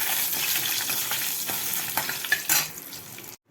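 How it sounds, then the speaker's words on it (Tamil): Turkey berries fry in sesame oil in a pan for a tangy tamarind curry, giving a loud, close, steady sizzle with scraping stirs and a few crackling pops. "நான் சுண்டைக்காய் வறுக்கிறதுக்கு நல்லெண்ணெய் ஊற்றியிருக்கேன்."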